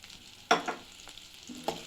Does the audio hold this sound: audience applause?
no